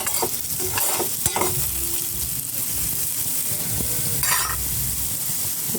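Potatoes fry and sizzle in a pan while being stirred, a steady close hiss with a few sharper scraping strokes of the spoon early on and again near the end.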